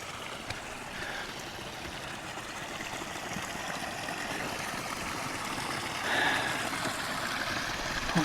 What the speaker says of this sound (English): I can hear the water underneath there.